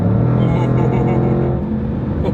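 A Range Rover SVR with a 500-plus horsepower engine accelerates hard from inside the cabin, a loud, deep, steady roar with a slight rise in pitch as it pulls.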